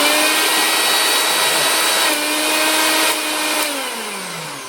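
Small mixer grinder motor on a repair bench, running after a wiring fault fix: a steady high-pitched whine that holds near-constant, with slight pitch dips as the load shifts, loud and close, no voices.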